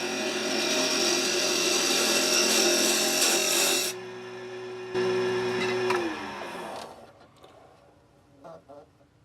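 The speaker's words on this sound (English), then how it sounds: "So I'm going to get my little bitty bowl gouge out that I've touched up." A small bowl gouge cuts wood on a lathe, producing a loud, steady rasping shave that stops abruptly, followed by the lathe's hum winding down and faint handling noises.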